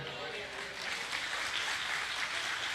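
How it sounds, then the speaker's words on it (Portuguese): A church congregation applauding during a Sunday morning service, a dense, moderately distant wash of clapping with voices mixed in, continuous throughout. "levantar as suas mãos, aplaudir o Senhor nesta manhã"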